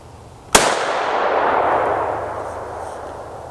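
A single sharp, loud 12 gauge shotgun blast, firing a 10mm round through a caliber adapter, is followed by a long rumbling echo that slowly decays.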